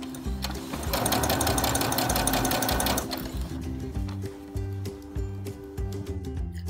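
A sewing machine stitches a seam in fabric for a child's skirt, its motor running in a fast rattling burst, then slowing into short stop-and-go runs of stitches, close and fairly loud.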